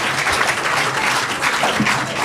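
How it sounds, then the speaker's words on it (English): Dense, steady applause from an audience at a state senate candidate forum, continuous clapping with no break. "From your enthusiastic applause"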